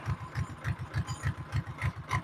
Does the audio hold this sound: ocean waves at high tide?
no